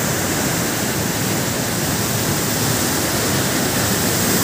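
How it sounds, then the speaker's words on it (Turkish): Samandere Waterfall in Düzce pours over rocks, making a steady, dense rush of water that stays even throughout, with no voices. "Buradan da suların süzülüşü, suların akışı, kayalarda suyun verdiği şekiller."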